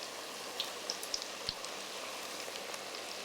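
Bugnes frying in hot fat, giving a soft, steady sizzle and crackle with occasional small pops, quiet and even throughout.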